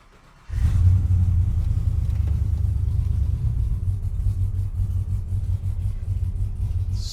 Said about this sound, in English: Now we're gonna hit one of the local highways and see how does our shop truck work.